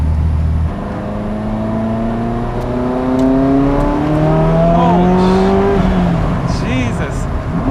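A Ferrari F40 accelerates hard up a mountain road, its turbocharged engine note climbing steadily through the gears with a loud whirring rise, heard from inside the car with occasional voices under the roar.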